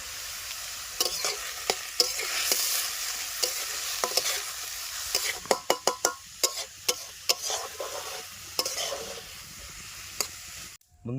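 Greens and green chillies frying in a kadai, a steady sizzle broken by repeated sharp scrapes and clinks of a spatula stirring against the metal, close and fairly loud.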